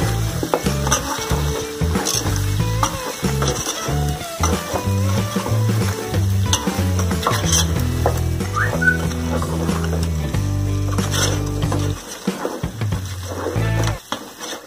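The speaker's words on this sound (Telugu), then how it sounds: "ఇప్పుడు ఇదంతా కూడా మళ్ళీ మనం మంచిగా మిక్స్ చేసుకుందాం" Ginger garlic paste is stirred into chicken pulusu curry in a hot pan, with a steady sizzle and spoon scraping beneath louder tonal background music that drops out near the end.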